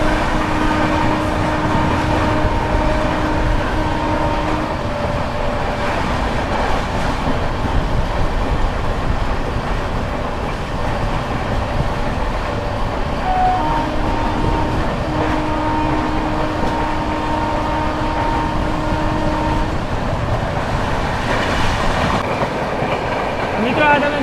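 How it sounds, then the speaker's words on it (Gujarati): A Porbandar–Motihari Express train runs along a line past a hill, with a continuous loud rumble and faint rhythmic clatter heard from aboard, a steady sustained tone drifting in and out over the noise. "બાકી હવે આપણી ટ્રેન એકદમ આ પહાડને ક્રોસ કરશે બેક સાઈડમાં"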